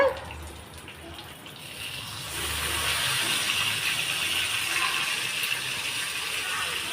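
Fish pieces frying in hot oil in a pan give a steady broadband sizzle that grows louder partway through as the pieces are turned, then continues unbroken.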